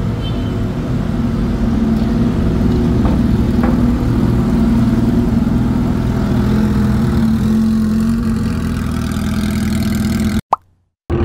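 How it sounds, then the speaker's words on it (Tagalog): A loud motorcycle engine runs steadily up close at night, a dense, rough drone that holds throughout before cutting off abruptly near the end, with no talking. "dito na si Rich Potato, ang kanyang CH2 na napakaingay."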